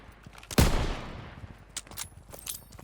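A loud burst of gunfire in Call of Duty: WWII during a beach landing, with a sharp report that rings out, then scattered distant shots and battle noise, no speech.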